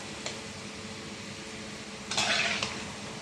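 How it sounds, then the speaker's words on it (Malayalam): Fried onions being scooped out of hot oil in a pan, a low steady sizzle with a brief clink of a spoon early and a short louder scrape and splash of oil near the end. "അപ്പം ഉള്ളിയൊക്കെ നല്ല പൊരിഞ്ഞിട്ടുണ്ട് ഇത് നമുക്ക് കോരിയെടുക്കാം"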